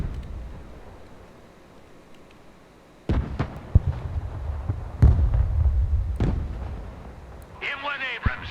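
Artillery in the Broken Arrow war game firing in a barrage, with several heavy booming blasts and sharp cracks that ring out and trail into rumbling, followed by a brief voice near the end.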